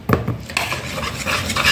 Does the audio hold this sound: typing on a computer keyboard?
no